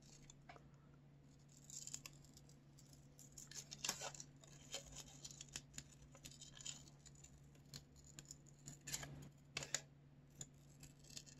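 Scissors snipping colored paper, with faint close clicks and short cuts scattered irregularly over a low steady hum.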